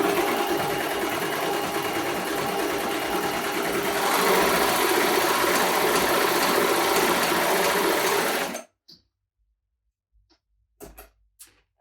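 A Baby Lock Desire3 combination machine stitching calico runs in a steady, loud, continuous whir for about eight seconds, then stops abruptly, followed by a few faint clicks and taps.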